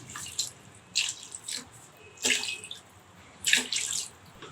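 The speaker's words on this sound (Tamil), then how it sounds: "1 கிலோ அரிசி, அதுக்கு 4 கப்பு தண்ணி இந்த மசாலாவோடு சேர்க்குறேன்" Water poured in four cup measures into biryani masala in a cooking pot, splashing in separate bursts with short gaps between pours, close and clear with no talk.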